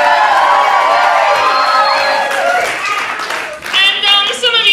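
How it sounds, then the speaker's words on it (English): An audience at a Halloween burlesque revue in a small Richmond gallery venue claps, cheers and whoops in a lively burst, with some voices shouting over the clapping. "applaud for me properly."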